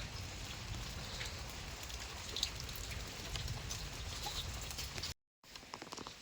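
Steady rain falls outdoors during a sudden heavy May downpour in the Konkan region, a continuous dense patter of drops close by with no voices, briefly cut out near the end.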